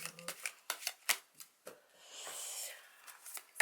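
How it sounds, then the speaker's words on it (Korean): Tarot cards are shuffled and drawn by hand, quiet papery flicks and taps followed by a longer riffling swish, close and soft. "한번 카드를 더 뽑아보도록 할게요"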